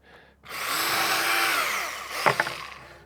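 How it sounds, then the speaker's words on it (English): A power drill whirs steadily, pre-drilling pilot holes in wood for a duck coop, for about two seconds, then winds down with a few short bursts near the end. "we're gonna pre-drill these with holes because we don't want them to split"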